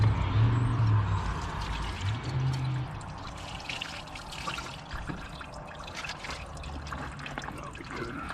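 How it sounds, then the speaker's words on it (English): Water pours and splashes steadily over a 2014 Ford Fusion's battery terminals and tray, close up, gradually thinning to a trickle, with a low hum at the start. "we got clean water to Rinse it all off"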